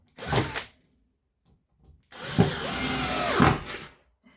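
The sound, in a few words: nine-year-old cordless screwdriver driving screws in a test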